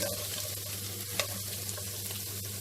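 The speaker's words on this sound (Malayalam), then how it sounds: "സവാള നന്നായി വഴറ്റുക" Seven green chillies and two medium sliced onions sautéing in a pan, giving a continuous close sizzle and crackle with a faint stirring scrape, no talking.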